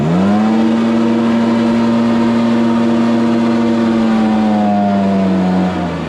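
A Stihl BR430 backpack blower with a no-power fault roars loud and close in one sustained high rev, its pitch holding steady then sagging slightly as the engine bogs down near the end.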